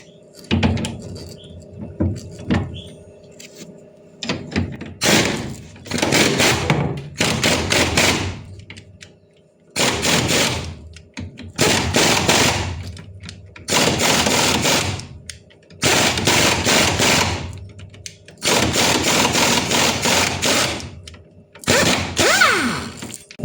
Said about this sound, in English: The impact has the force necessary to remove the bolt, but I want to protect the bolt.